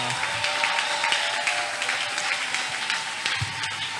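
A church congregation applauds in acclaim of the king of glories, a steady dense wash of clapping from many hands that holds at an even level.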